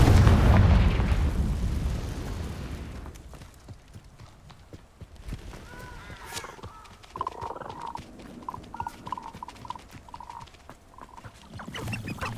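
A Confringo spell explosion in a Harry Potter video game erupts as a loud, rumbling blast that fades over a few seconds into quieter game ambience with faint tonal effects.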